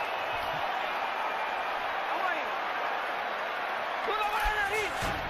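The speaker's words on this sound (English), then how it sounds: "Crowd is on fire" Dense arena crowd noise at a Cotto vs Pacquiao boxing match, a steady loud roar with whoops and shouts rising near the end, under a commentator's speech.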